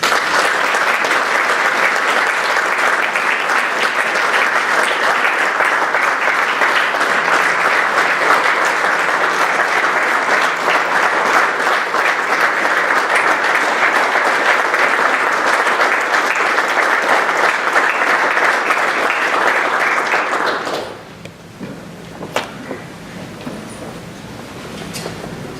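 Audience at a hall of fame dinner giving a long, loud, steady round of applause lasting around twenty seconds, then dropping away to a quiet room.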